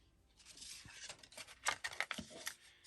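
Scissors snipping through paper to trim the top off a junk journal pocket, close and quiet, a few soft rasping cuts with faint rustling and no speech.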